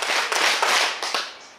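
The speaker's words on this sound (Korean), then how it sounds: "박수 다섯 번 시작!" Audience at an outdoor gakseori folk-comedy show at a special stage in Suanbo clapping together five times on cue, a series of sharp group claps in quick rhythm.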